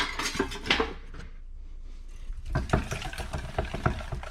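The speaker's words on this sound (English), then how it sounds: "Let's whisk this up." Ranch dressing ingredients, including salt, are whisked in a bowl, giving quick, close scraping clinks in two bursts separated by a short lull.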